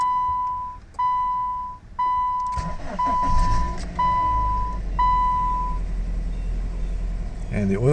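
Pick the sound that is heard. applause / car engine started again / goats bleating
car engine started again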